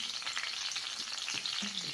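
Eggplant for tortang talong sizzles in a pan, a steady close crackle with small pops and spatters, no voices over it.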